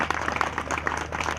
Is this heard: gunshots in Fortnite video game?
no